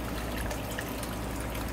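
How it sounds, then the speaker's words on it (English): A small waterfall feature in a backyard pool pours water in, a soft continuous trickle and splash at low level with no voices. "we have our fancy little waterfall there in our pool"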